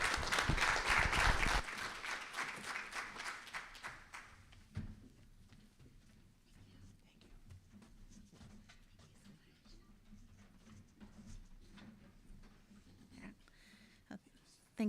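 Audience applause at a Native Edge Institute event in Mashantucket, Connecticut, loud and dense at first, then fading within a few seconds into scattered claps and quiet room noise.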